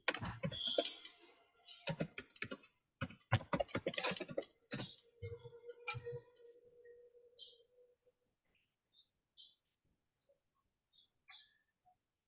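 Someone types a Frida command on a computer keyboard in quick, irregular bursts of close keystrokes, thinning to a few scattered taps before stopping.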